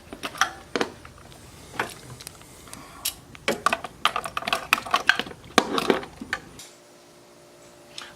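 Ratchet clicks and metal taps from an adjustable ratchet driving a 27mm socket on 1/4-to-1/2 inch extensions, working on the oil pressure gauge of a 2013 Chevrolet Camaro 2SS Convertible. Irregular close bursts of sharp clicking ending in quiet hum.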